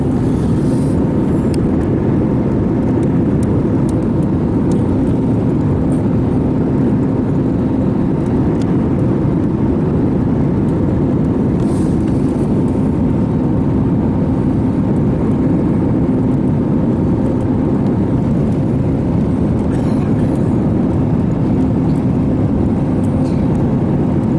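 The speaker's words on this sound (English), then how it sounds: "Landing as we're going through crosswinds." A steady, loud roaring drone of airplane cabin noise fills the whole stretch as the aircraft lands through crosswinds, a dense engine and wind rumble with no voices.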